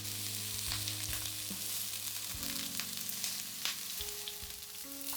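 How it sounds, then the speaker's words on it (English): Eggplant pieces sizzle steadily in a hot frying pan as they brown, a close, even crackle with faint clinks and stirring noises, no talking. "I cook and brown them about 3 minutes"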